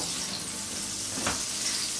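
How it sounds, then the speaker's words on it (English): Butter melts into hot peanut oil in a pan for frying a potato pancake, giving a steady, soft, close hiss of sizzling throughout. "Nice hot oil and butter for that potato pancake for frying."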